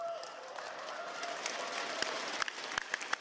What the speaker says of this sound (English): Seems like the crowd's pretty happy about that one.